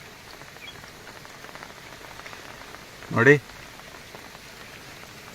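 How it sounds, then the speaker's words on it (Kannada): Rain falls steadily beside the flooded Tunga river in the Malenadu hills, a soft, even hiss that runs through the whole stretch, broken briefly by a single spoken word. "ಮಳೆ ಬರ್ತಾನೆ ಇದೆ."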